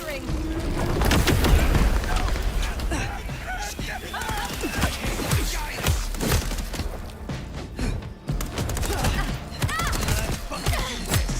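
Gunfire rattles through a firefight in Vampire Bloodlines 2, with rapid, uneven shots and heavy impacts crackling continuously, close and loud, while voices shout over the shooting.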